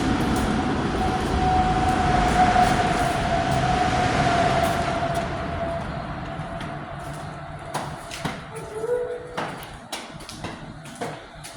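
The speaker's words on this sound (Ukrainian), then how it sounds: "О, потяг поїхав." A train rumbles steadily with a sustained tonal whine, then the noise fades as it pulls away, leaving quieter scattered clatter and knocks.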